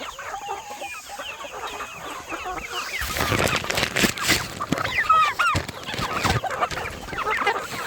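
Chickens cluck and squawk close by, a busy, continuous chatter that grows louder and more agitated partway through, with scuffling noises.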